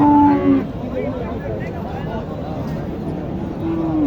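Cattle at a Bangladeshi village cow market, with Sahiwal and local cows and calves, give a loud nearby moo at the start and another at the end, over constant crowd chatter and bargaining voices.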